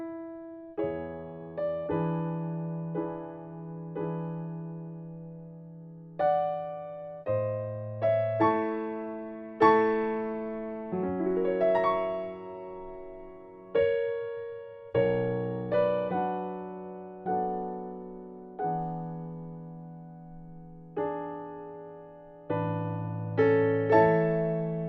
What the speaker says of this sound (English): we're learning the last piece of Chopin's Prelude in A